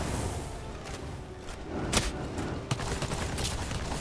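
Gunfire in the video game Palworld, a rapid fusillade of crackling shots and soft thuds over a dense, continuous layer of game noise, with a couple of sharper reports standing out.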